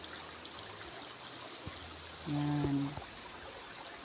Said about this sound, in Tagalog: Buhay na buhay po yung ating sapa.